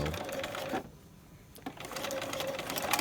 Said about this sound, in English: I'm sewing with blue thread so you can get a sense of what I'm doing